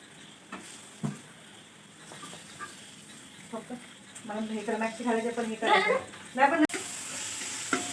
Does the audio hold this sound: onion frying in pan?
yes